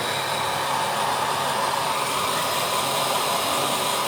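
Steady, loud, close hair dryer blowing without a break, a continuous broadband whoosh with no pauses.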